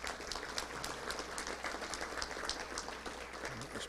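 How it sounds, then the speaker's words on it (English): A crowd at a touchdown club luncheon applauds with steady, even clapping, moderately distant and continuous throughout. "Let's give her a round of applause, please."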